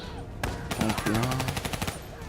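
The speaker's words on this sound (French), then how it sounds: "Pourquoi il me tire que sur moi?" Rapid automatic gunfire in the Black Ops 3 campaign crackles in loud bursts, one sharp report followed by a sustained rattling volley, with a voice faintly mixed underneath.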